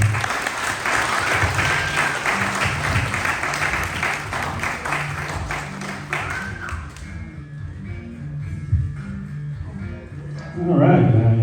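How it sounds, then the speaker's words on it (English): Comedy club audience applauds for about seven seconds, a dense wash of clapping that thins out and fades, followed by quieter room noise and a sudden burst of closer handling or movement at the end. "Round of applause for Carlos Patino, everybody."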